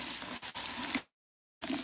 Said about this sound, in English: And this is how you rinse your conditioner.